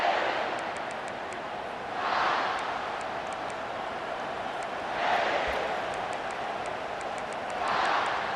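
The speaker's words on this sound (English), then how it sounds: "This crowd trying to make life miserable for this offense." Football stadium crowd during a college game, a steady broad roar that swells in loudness three times, around two, five and eight seconds, with no clear talk above it.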